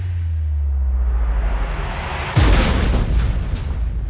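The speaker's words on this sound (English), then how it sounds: "the idea is to have an explosion that doesn't last for very long." A short special-effects explosion on an interior film set bursts suddenly after a low rumbling build-up, a loud sharp blast that quickly decays into crackling debris and rolling echoes.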